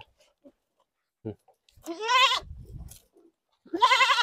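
Osmanabadi goat kids sired by a Beetal buck, handled during weighing, give two loud, wavering bleats close by, separated by brief rustling and shuffling.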